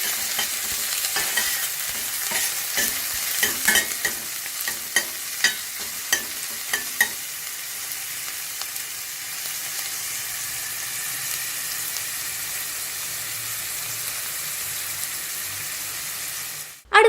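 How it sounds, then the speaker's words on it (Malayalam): Sliced onion with salt sizzles steadily in a hot pan while a spoon stirs and scrapes it, with a run of sharp utensil knocks early on and a continuous frying hiss throughout. "എന്നിട്ട് ഇതൊന്ന് വഴറ്റിയെടുക്കാം"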